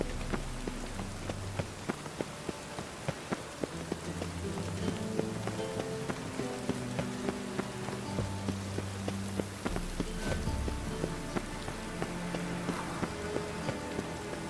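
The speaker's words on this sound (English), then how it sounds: "Looks like rain." Rain falls steadily in The Witcher 3: Wild Hunt, a dense hiss of drops pattering on surfaces with sharp scattered ticks and a low rumbling bed, continuous and fairly close throughout, no voices.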